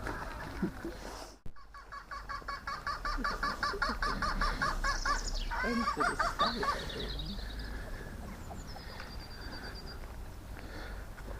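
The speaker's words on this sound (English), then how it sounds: "Can we go and see the chickens?" Poultry calls ring out at close range, a run of repeated clucking and squawking notes followed by a few quieter calls, set against outdoor ambience.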